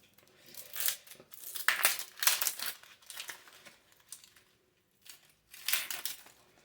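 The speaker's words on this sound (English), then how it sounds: "you can basically just go under the peel with your finger and pull it off" Dry papery onion skin crinkles and tears as fingers pull it off by hand, several close crackly bursts separated by brief pauses.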